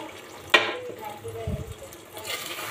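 Chicken is stirred in a pan with milk for a biryani, giving a brief utensil clink, a low wet bubbling thump and a soft sizzle beneath faint talk.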